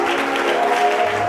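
Church congregation clapping in a short, dense burst of applause, loud and close, with a faint voice underneath.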